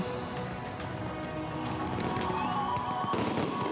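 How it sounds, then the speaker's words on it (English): Fireworks bursting from the sides of the world's tallest skyscraper in Dubai at a New Year celebration, a dense continuous crackle and rumble of explosions with crowd noise underneath, steady and loud throughout. "fireworks exploding from the sides of the building"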